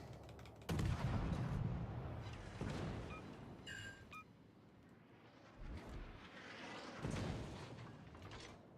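Naval ship guns firing during a World of Warships Legends battle, heavy booming blasts at about one, three and seven seconds over a continuous low rumble of game noise, with some pinging effects in between.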